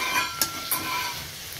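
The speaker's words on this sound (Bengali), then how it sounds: "এখানে হচ্ছে পেঁয়াজ কাঁচা লঙ্কা দিয়ে বেগুন আলু উচ্ছে 3টে সবজি একসাথে মিক্স করে ভাজা" Eggplant, potato and bitter gourd fry together with onion and green chili, a soft sizzle with two sharp clinks of a spatula against the pan.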